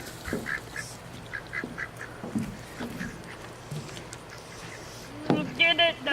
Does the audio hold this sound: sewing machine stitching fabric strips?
no